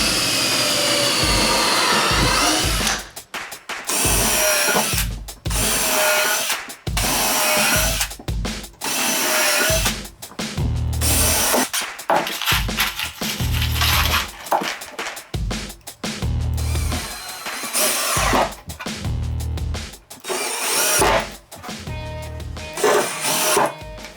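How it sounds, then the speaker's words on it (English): A power drill whines loudly and almost continuously, cutting in and out in short rhythmic bursts as it bores into wood. "We need to pre-drill the wood first."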